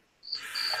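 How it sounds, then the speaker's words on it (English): A cricket chirps indoors, a shrill high trill starting abruptly after a moment of near silence, close and steady, with a brief break before it resumes, the room otherwise quiet. "I have a damn cricket in here."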